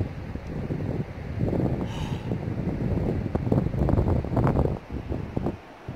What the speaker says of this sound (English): you'll be able to tell me because it's windy right now